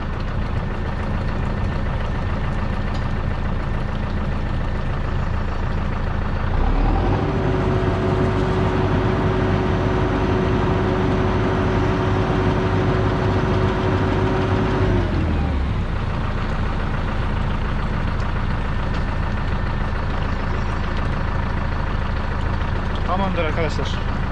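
A Deutz Fahr tractor engine running steadily, then revving up to a higher, sustained pitch for several seconds before dropping back to idle; someone talks over it.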